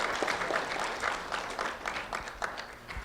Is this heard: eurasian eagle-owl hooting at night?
no